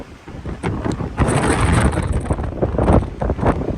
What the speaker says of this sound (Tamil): காற்று எவ்வளோ வேகமாக இருக்குது